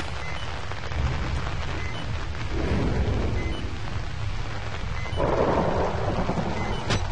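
Rain and thunder from a storm in the horror video game Outlast make a steady rushing hiss with low rolling rumbles that swell midway and near the end, with no voices over them.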